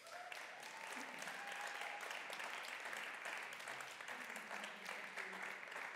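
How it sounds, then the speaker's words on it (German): An audience at the final of a German science slam championship applauds in a dense, sustained wash of clapping that holds steady throughout, with faint voices underneath. "Nochmal Applaus, bitte"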